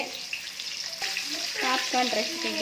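KFC-style chicken pieces frying in hot oil in a home kitchen, a steady soft sizzle close by, joined by brighter bubbling crackle in the second half.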